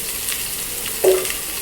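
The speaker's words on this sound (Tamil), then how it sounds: "வெங்காயம் வதங்கிட்டுருக்கு, வெங்காயம் வதங்கிட்டோம்." Onions and mustard seeds sautéing in a pan for a South Indian lunch dish, a steady soft sizzle with a brief louder scrape of stirring partway through.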